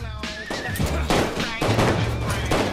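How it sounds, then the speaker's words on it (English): A disintegrator gun firing in the video game Saints Row 4, loud rapid bursts of crackling weapon fire that come again and again, with faint speech mixed in. "Oh, it's a disintegrator!"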